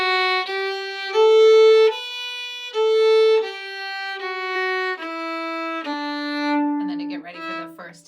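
A fiddle plays the last phrase of Morrison's Jig, an Irish tune, as a clear solo line of sustained bowed notes stepping down the scale, bright and close, with no other sound.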